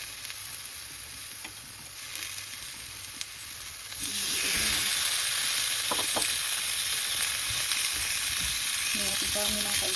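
Cooked rice tips into a hot pan where a steak and potato dinner is being cooked, and the hiss jumps to a loud, steady sizzle with occasional scraping and clinks.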